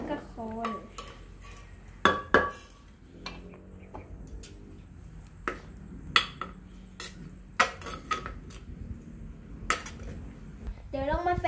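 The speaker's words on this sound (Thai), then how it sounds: "แล้วก็คน" Ingredients for Thai papaya salad (som tam) are stirred in a bowl, giving scattered clinks and knocks of utensil against dish, loud at moments and quieter between, while someone talks now and then.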